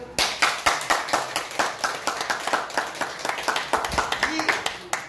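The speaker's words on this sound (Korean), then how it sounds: "박수 안 쳐요?" Audience clapping at a Daejonggyo religious sermon, a run of sharp, fairly steady hand claps near the microphone, with voices speaking over them.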